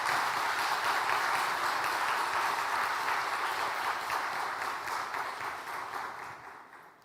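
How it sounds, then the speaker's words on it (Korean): A church congregation applauds to welcome a missionary who serves in the Dominican Republic, a full steady round of clapping that gradually thins and fades out. "우리 선교사님 나오실 때에 박수로 우리 환영하시겠습니다."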